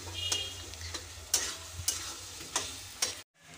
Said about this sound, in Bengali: চিকেনটা দিয়ে দিয়েছি, এবার চিকেনটা কষাবো